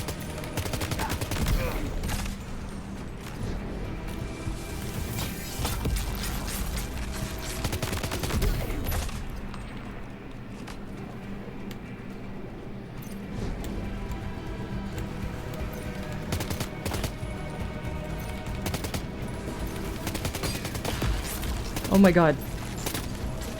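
Bursts of gunfire crackle repeatedly in the Death Stranding 2 video game, rapid volleys coming in clusters over a steady rumble while someone talks over them.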